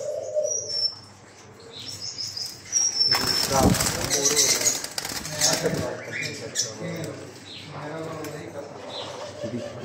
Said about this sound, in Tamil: பெரிய முரட்டு கிளியாக இருக்குது